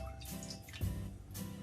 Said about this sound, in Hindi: 1 गिलास पानी डाल रही हूँ